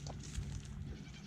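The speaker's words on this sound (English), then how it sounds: "I don't know that the goats will eat it if it's moldy." Nigerian Dwarf goats bleat in a barn setting, a short, moderately loud animal call over low background rumble, with no talking.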